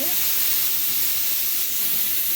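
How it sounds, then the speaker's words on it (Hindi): Steady, loud hiss of steam escaping under pressure, continuous and unbroken throughout, with no voices. "प्रेशर कुकर को मैंने कर दिया है बंद। अब इसकी विजिल उठा देंगे।"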